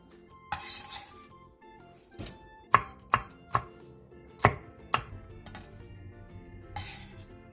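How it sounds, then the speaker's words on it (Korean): A knife cuts on a board: a cucumber sliced diagonally, half an onion cut into thin strips, and Cheongyang chili peppers cut on the bias. About ten sharp, separate knock-and-clink strikes come at an uneven pace, close and clear, with no talk. "양파 2분의 1개를 채 썰고 청양고추 2개를 어슷썰기 해주세요."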